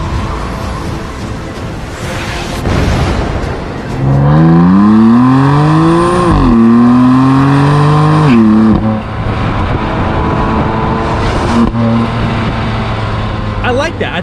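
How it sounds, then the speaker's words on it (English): BMW M4 engine burbling and shifting, with rising revs that drop at each gear change, loud and close, followed by a steadier cruising drone, while people talk over it. "she compared the sound of when it shifts gears or, you know, when it burbles to the sound of when like Superman would hit the sound barrier"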